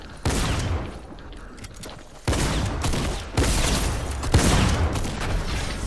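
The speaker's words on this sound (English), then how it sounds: "Oh, shotgun time." Shotgun blasts in a video game, four heavy booming shots at roughly one-second intervals, each followed by a long noisy rumble, loud and close.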